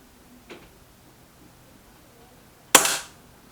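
A Weihrauch HW 100 air rifle fires a single shot at a target: a faint click first, then one sharp, close report with a brief decay in a quiet setting.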